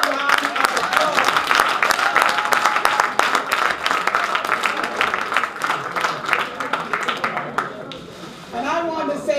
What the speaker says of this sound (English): Can we give our public advocate another round of applause?